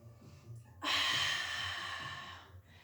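A deep, steady inhale drawn in as part of a guided breathing exercise, a broad rushing breath starting abruptly and holding for nearly two seconds before tapering off, close and fairly loud.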